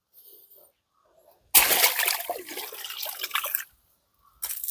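Water splashing and trickling from a freshly dug spring, a burst of wet, splattery flow that runs for a couple of seconds, stops, then starts again briefly, with faint sounds before it.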